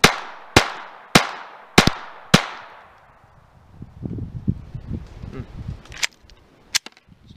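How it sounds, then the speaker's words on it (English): A Glock 44 pistol fires five sharp, close shots in quick succession, followed by metallic handling clatter and two more distant cracks. "The strong rounds are firing just fine."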